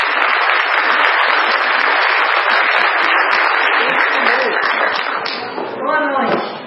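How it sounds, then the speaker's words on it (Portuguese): Audience applause at a Brazilian festival event, broad sustained clapping filling the room and tapering toward the end, with a voice starting to speak over it in the last seconds. "Vamos aplaudir o Michael."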